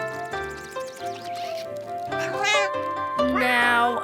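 Cartoon cats meow repeatedly in a children's animated show, several drawn-out, pitched meows and caterwauls coming in bursts over a steady musical background, fairly close and loud.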